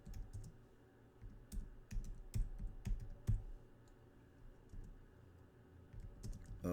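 Computer keyboard keys clicking in short irregular bursts as a search is typed, close and quiet with gaps between keystrokes.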